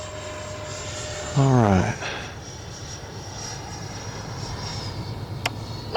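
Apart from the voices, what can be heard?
RC MiG-29 twin 64mm jet flying at three-quarter throttle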